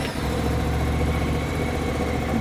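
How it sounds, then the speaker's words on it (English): A Suzuki DL800RE V-Strom motorcycle engine, steady and close, runs with an even low rumble throughout after starting, with no talk over it. "Right, we'll start the bike."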